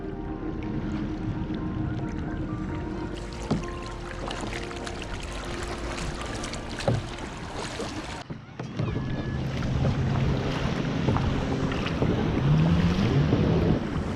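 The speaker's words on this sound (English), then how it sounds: "so we probably paddled how many miles do you think, Nick?" Kayak paddling on open water with steady splashing and rushing water under gusty wind noise buffeting the microphone, close, with the water sound growing louder in the second half.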